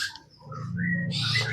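A spotted dove (tekukur) kept in a hanging cage calls with soft, low cooing notes, mixed with a few brighter chirps nearby, for a brief stretch.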